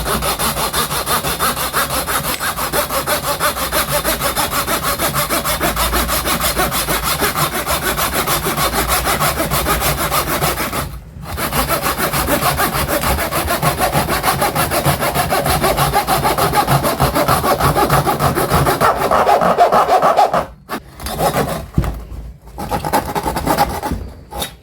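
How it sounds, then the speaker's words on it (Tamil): A 9-inch pull saw cuts through a rubber tyre tube in long, continuous rasping strokes, loud and close, with a brief pause near the middle and broken, stop-start strokes toward the end. "இது ஒரு டயர் டியூப் எடுத்து வச்சுருக்கிறேன். இது எப்படி கட் பண்ணதா இல்லையான்னு நம்ம பார்த்துடலாம்."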